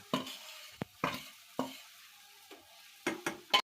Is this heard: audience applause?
no